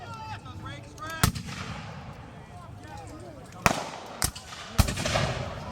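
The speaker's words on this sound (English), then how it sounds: "if you notice the rifle is kind of fired upwards, that's a safety call." Black powder rifles fire upward at a battle reenactment, several sharp, loud reports at irregular intervals over crowd noise, with people talking throughout.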